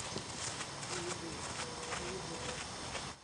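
Horse hooves clip-clop at a brisk walk in a steady, even rhythm, moderately close, with a voice faintly audible in the background.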